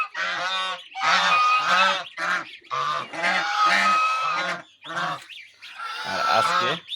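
Young geese honk loudly and nearby in a rapid string of nasal calls over several seconds. The honks come in bursts with short gaps, and no voices are heard.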